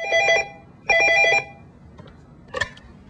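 A telephone rings in two loud electronic bursts, then a short, fainter chirp, as a call comes in before an interview.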